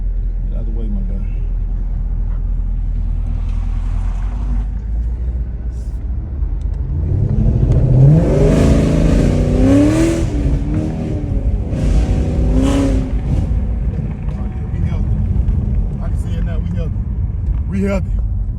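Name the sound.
6th gen Chevrolet Camaro SS engine revving after tune-up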